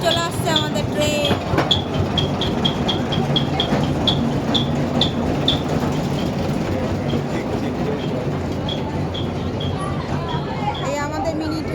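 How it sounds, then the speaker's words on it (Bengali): A mini toy train pulls in along the long bridge leading to the Elephanta caves, a continuous rumbling rattle with a series of regular high squeals or clicks, heard close with people talking over it. "এই এখন ট্রেন চলে আসছে, আমাদের ট্রেন।"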